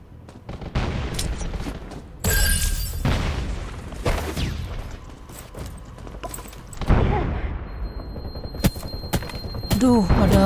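Explosions and heavy gunfire blast through a session of the survival shooter Undawn, with loud booms, rapid automatic bursts and scattered single shots throughout, close and dense, while a player talks at times.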